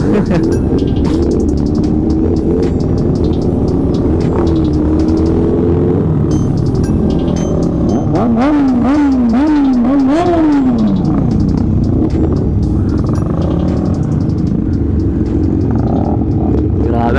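A loud motorcycle engine idles, then its exhaust is revved several times in quick rising-and-falling bursts, with people chattering in the background.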